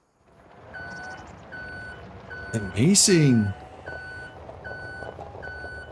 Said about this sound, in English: The only noise we got here, it is that reverse beeping.